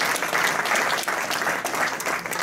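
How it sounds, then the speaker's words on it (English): Rotary Club members at a meeting give a round of applause to the Hickory Crawdads baseball team and staff, a steady, moderately loud patter of clapping from a modest room that runs unbroken throughout. "more round of applause to the Hickory Crawdads and the staff and Mark Seaman"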